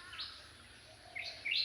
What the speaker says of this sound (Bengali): চারিদিকে পাখিদের কিচিরমিচির শব্দ,